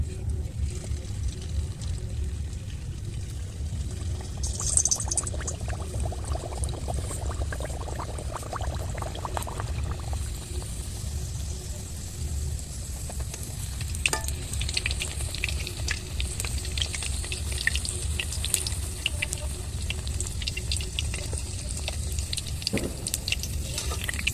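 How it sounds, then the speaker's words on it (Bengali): Luchi, a puffed Bengali flatbread, fries in hot oil with a continuous soft bubbling sizzle. It stays fairly even throughout, with a few faint clinks over it. "এই যে বন্ধুরা, এই যে লুচি দিচ্ছি।"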